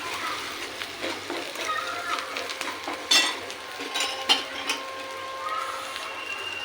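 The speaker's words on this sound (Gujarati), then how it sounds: "બધું મિક્સ કરી લઈએ" Spice masala mixture with red chili powder, salt and ginger being stirred in a pan, giving a faint, steady scrape and soft sizzle with scattered spoon clinks.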